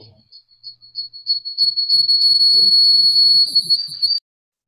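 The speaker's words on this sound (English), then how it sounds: "whistling at me" A person whistles a sustained high note that wavers slightly, joined by faint breathy murmurs underneath, close by and clear, ending abruptly.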